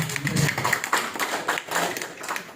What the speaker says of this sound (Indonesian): Tepuk tangan dulu untuk MTC